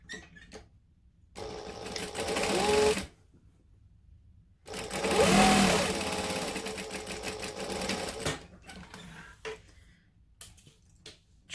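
Sewing machine stitching a crossbody bag lining from seam to seam, in two runs of steady whirring stitches separated by pauses, with light handling clicks afterward.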